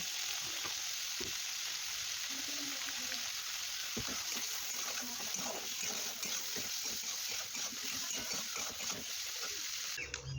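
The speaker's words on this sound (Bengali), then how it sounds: "টমেটো পেঁয়াজ সব একসাথে দিয়ে দিলাম" Tomato and onion sizzle steadily in hot oil together, a continuous bright hiss with a few soft clicks of a utensil, close and fairly loud throughout.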